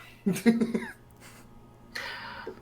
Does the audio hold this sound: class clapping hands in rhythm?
no